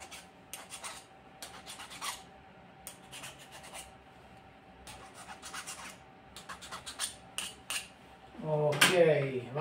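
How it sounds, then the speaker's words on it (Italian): A metal file rasps and scrapes repeatedly across the tread of a solid tyre being retreaded, in short, close bursts with brief pauses between strokes, and a louder scrape near the end. "una lima si toglie un po' di schifezza, si gratta un pochino"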